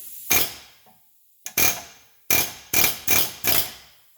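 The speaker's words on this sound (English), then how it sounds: "All you got to do now is hammer off that joint and control arm free." Six heavy metallic hammer blows ring out at uneven intervals, close and loud, with short pauses and no talking, as a ball joint and lower control arm are hammered free on a 2011 Chevrolet Avalanche LTZ.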